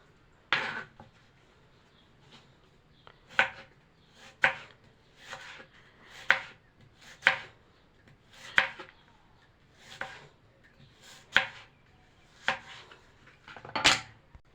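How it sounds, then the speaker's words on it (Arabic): A knife cuts thinly through half an onion on a board, about a dozen crisp, evenly spaced chops ringing out alone, fairly close and moderately loud. "هنبدأ نقطع البصلاية اتنين، وهنبدأ ناخد النص ونبدأ نقطعه رقيق زي كده"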